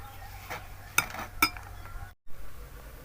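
A spoon clinks against a bowl while red chili, salt and black pepper are stirred together, giving two sharp metallic taps and a soft scraping stir over quiet room noise, then a brief dropout.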